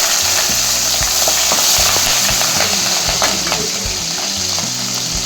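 Green chillies frying in hot oil with mustard seeds and urad dal, a loud, close, continuous sizzle with crackling pops and occasional stirring clinks throughout.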